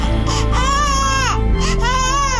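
A baby boy cries in a room, a loud, continuous wailing with rising and falling pitch across two long breaths.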